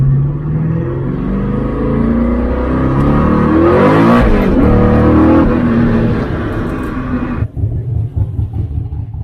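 Ultima Evolution sports car engine revving hard on a dyno during tuning, a loud close roar climbing steadily in pitch, peaking midway, then cutting off and falling back to a rough idle.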